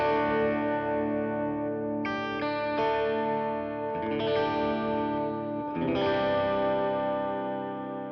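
Electric guitar on a clean signal chain with no effects, played through a budget pedalboard with an amp modeler, strumming sustained chords with changes about every second or two, up close and alone.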